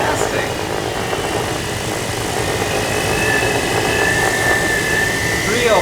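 A fully solar-powered quadcopter with no onboard battery flies nearby, its rotors giving a steady, loud buzzing whine that holds for several seconds.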